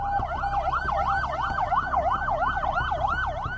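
Ambulance siren wailing in rapid, regular up-and-down sweeps, loud and fairly close over low traffic rumble on an apartment street in Karachi.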